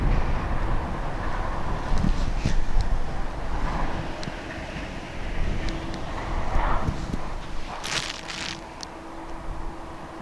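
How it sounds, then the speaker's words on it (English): Strong breeze buffeting the microphone at East Midlands Airport, a continuous rough rumble of wind noise with a brief gusty flare near the end, no talk heard. "there's a very strong breeze blowing"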